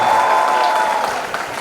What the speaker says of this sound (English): Can we have a huge round of applause for Mahima and Ayush again?